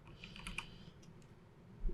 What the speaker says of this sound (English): Sorry if my typing is weird. I have the microphone in front of the keyboard.